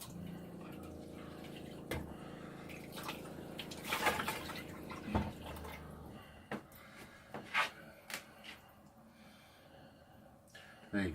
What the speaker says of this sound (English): I shall just give my lid a little bit of a rinse as it fell into the water.